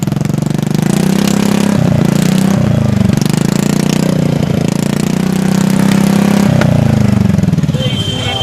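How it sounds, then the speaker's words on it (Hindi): A TVS Ntorq BS6 scooter engine runs with its exhaust removed, giving a loud, raw, buzzing drone close by, steady throughout with a few brief throttle surges. "एक बार मैं आपको साउंड सुनाता हूँ विदाउट एग्जॉस्ट कि कैसा साउंड क्रिएट करता है।"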